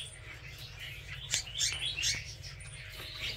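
Baby birds at a farm give a string of sharp, high chirps and tweets, several short calls clustered near the middle, fairly close over a steady low background hum.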